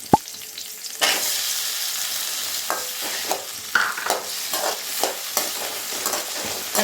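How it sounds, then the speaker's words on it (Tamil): Small onions and tomatoes sauté in a pan with a steady sizzle, broken by the repeated scrape and clack of a spoon stirring through them at close range. "இப்போ வெங்காயம் தக்காளி நல்லா வதங்கட்டும்."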